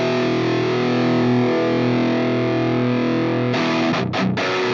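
Heavily distorted electric guitar played through an Axe FX III with Dyna Cab, a sustained loud chord ringing out before a few short choppy palm-muted stabs at the end.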